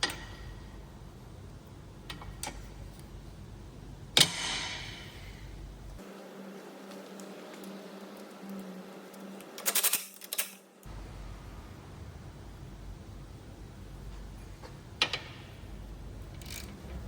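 A torque wrench tightens a roll link bolt on a VW Polo to 55 Newton meters. Quiet mechanical clicks and ratcheting come in scattered bursts, with a louder metallic clatter near the middle.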